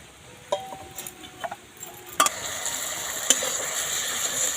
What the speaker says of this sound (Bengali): মশলাগুলো ভালো করে তেলের মধ্যে নেড়ে নেব